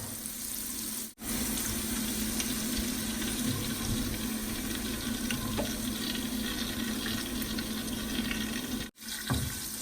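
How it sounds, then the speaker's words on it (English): Garlic browning in olive oil in a pan, a steady, even sizzle that runs throughout, with two brief dropouts. "We're browning up the garlic a little bit here."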